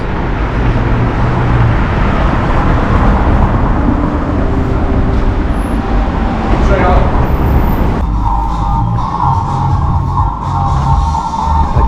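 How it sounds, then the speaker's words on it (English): Street traffic on a city road during a rail trip through Europe, heard as a steady, loud roadway roar of passing cars and buses with indistinct voices mixed in, and the tone shifts partway through. "Traffic."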